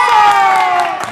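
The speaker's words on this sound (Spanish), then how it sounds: "¡Un aplauso!" An audience cheers and shouts in a loud, sustained burst with a high whooping voice over crowd noise, brief and close.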